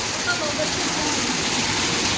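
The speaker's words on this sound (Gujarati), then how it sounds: "જબરજસ્ત વરસાદ ચાલુ થયો જોરદાર" A heavy downpour of rain hisses in a constant, loud wash of noise over a brief stretch.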